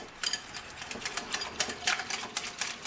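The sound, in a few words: whisking homemade buttermilk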